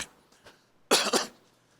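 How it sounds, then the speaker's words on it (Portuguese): Two quick, sharp coughs close to the microphone, preceded by faint soft breaths in an otherwise quiet room. "eu estou com uma tossinha que me incomoda"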